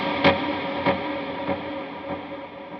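A slide guitar part runs through an analog delay and a shimmer reverb, with four evenly spaced repeating swells fading under a long, smeared wash of sustained tone.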